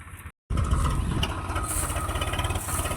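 A tractor engine running close by: a loud, steady low rumble with a faint pulsing beat, starting after a brief silent dropout.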